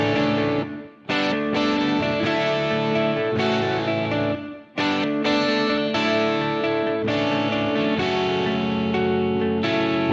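Two distorted electric guitars play chords together, washed in a roomy reverb, with two brief dips into near silence before the playing resumes.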